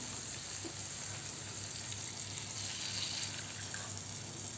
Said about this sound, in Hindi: आधे कप इतना पानी मिलाया हमने।